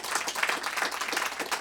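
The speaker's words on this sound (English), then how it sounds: "Okay, now stop clapping." An audience claps during a radio station interview, a steady patter of many hands held at moderate loudness throughout.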